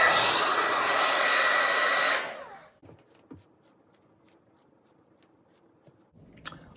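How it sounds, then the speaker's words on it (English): A hair dryer blows loudly and steadily for about two seconds, then cuts off, leaving faint handling clicks and quiet rustling. "I'll hit it with a warm blow dryer for just a minute."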